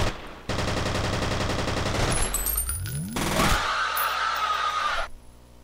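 Gunfire in the shooter F.E.A.R.: a rapid automatic stream of shots, close and loud, followed by sweeping weapon and impact effects before cutting off near the end.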